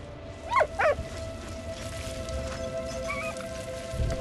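A dog in the video game Valiant Hearts gives two quick, close whimpering barks, then faint whines over a steady hum of game ambience.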